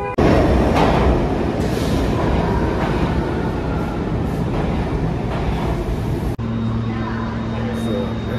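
A New York City subway train rumbles loudly and steadily, with rolling clatter and a brief drop before the noise shifts to a lower hum.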